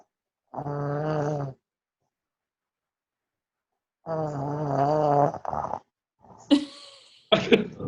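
A person snoring loudly and close, with two long rasping breaths separated by a silent pause, followed by a few short throaty snorts and coughs.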